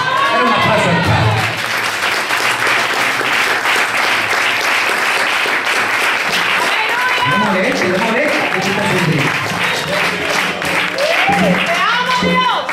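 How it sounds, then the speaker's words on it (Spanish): A church congregation claps loudly and steadily during an evangelistic sermon, a dense wash of hands with voices shouting and calling out over the applause throughout. "Dale un aplauso al Padre."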